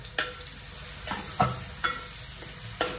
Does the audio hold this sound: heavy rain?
no